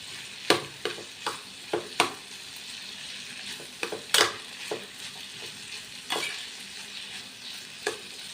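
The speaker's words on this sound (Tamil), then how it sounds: "நல்லா எல்லா பக்கமும் கிளறி விட்டுக்கலாம்." Cluster beans being stirred as they fry in a pan with home-ground kuzhambu chilli powder, giving a steady sizzle broken by repeated sharp scrapes and clacks of the spatula, close and moderately loud.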